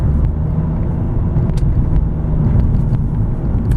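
A 2015 Honda Accord Hybrid EX-L accelerates with a steady, loud low engine and road rumble heard from inside the cabin, with faint wind noise and no talk.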